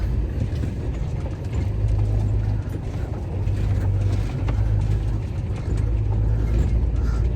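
A heavy truck engine roars continuously at high revs while climbing uphill off-road, with the pitch surging and easing in repeated waves as it labors under load.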